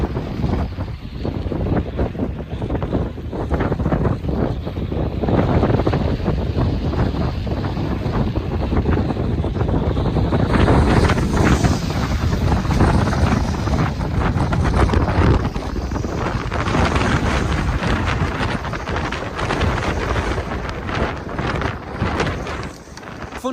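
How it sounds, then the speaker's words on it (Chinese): Strong gusting wind roars across the microphone outdoors on a Tibetan cycling route, beside an electric bike and a small wind turbine, forming a loud continuous rumbling buffet with surges throughout. "风太大了，再这样要把我的电动车给吹倒了。"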